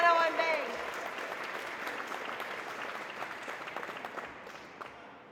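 Audience applause at a humanities awards broadcast following a piano and bass performance, a dense steady clapping that stays loud throughout and tapers slightly toward the end.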